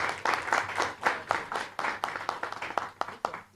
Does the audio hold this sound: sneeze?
no